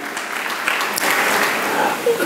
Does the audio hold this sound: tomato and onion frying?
no